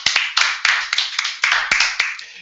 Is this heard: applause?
yes